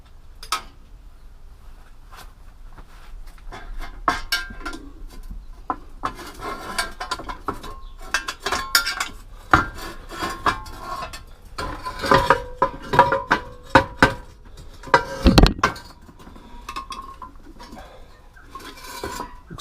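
A cracked copper pancake, cast from melted scrap copper wire, is worked loose from the pan that holds it. Sparse metallic clinks and scrapes grow into busier clanking, with a heavy thud near the end.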